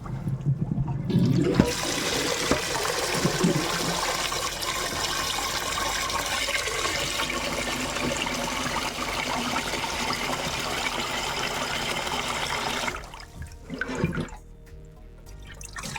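Cold tap water gushes steadily over cooked pasta being rinsed for chicken soup, a loud continuous rush lasting about thirteen seconds before cutting off, followed by a few faint drips and clinks.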